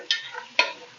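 Small chicken pieces being stir-fried in a pan for desi-style chicken soup, two quick scraping stirs with a brief sizzle after each, close and short.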